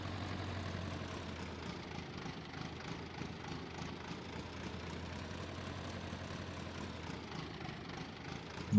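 A tractor engine in Farming Simulator 22 idles steadily with a low, even rumble, moderately faint and unchanging, with no voices over it.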